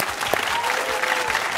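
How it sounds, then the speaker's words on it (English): A short burst of applause from a high school quiz show studio audience, steady clapping throughout. "Nice round of applause."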